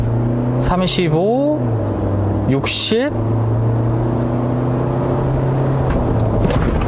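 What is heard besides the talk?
SsangYong Rexton accelerating at full throttle from standstill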